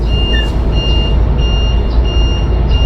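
A truck rumbles past, loud and close, while a steady reversing beep repeats at an even pace above the engine noise.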